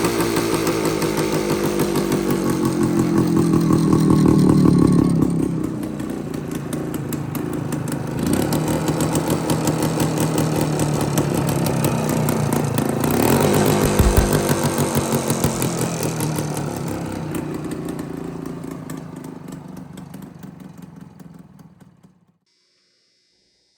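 A 1980 Suzuki TS185 two-stroke motorcycle with a freshly rebuilt top end runs close by, its buzzing, raspy engine revving up, hanging at high revs and dropping back, then cutting off abruptly at the end.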